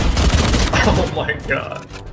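Rapid burst of video game gunfire in a last-player-standing match, a quick rattle of close shots lasting about a second, with excited players' voices mixed in.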